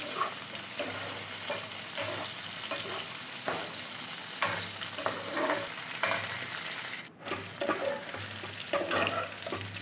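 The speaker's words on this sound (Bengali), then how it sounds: "এগুলোকে আমি খুব ভালো করে ভাজবো না, মোটামুটি জাস্ট 5 মিনিট মতন হালকা ভেজে নেব।" Chopped onion and capsicum fry lightly in hot oil, a continuous crackling sizzle with frequent scraping stirs of the spoon against the pan, close and steady, with no voices.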